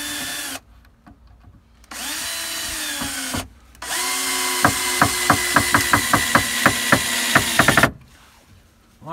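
A power drill on a chicken coop build from recycled materials whines in bursts, then runs steadily with a rapid series of clicking impacts as a screw is driven into wood, close and loud with short pauses between runs.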